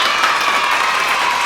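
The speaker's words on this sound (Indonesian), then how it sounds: "Tepuk tangan buat kalian." Schoolchildren in an Islamic religion class burst into loud, close applause, a dense, steady patter of many small hands clapping together with a faint murmur of the group beneath.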